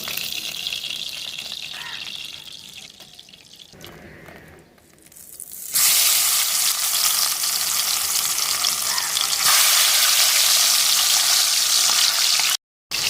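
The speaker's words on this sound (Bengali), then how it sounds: "বাকি মাছগুলো আমরা ভেজে নেব।" Parshe fish frying in hot oil for a Bengali tel jhal: a steady, loud sizzle that starts moderate and quieter, dips, then jumps up sharply and crackles densely, with a brief gap near the end and no talk.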